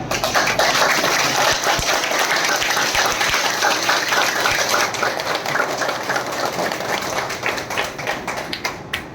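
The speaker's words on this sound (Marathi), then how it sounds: "म्हणून कशा टाळ्या वाजवा? अशा वाजवा." A group claps hands rapidly and continuously during a laughter exercise session, a dense crackling burst of applause that stays loud and gradually tapers toward the end.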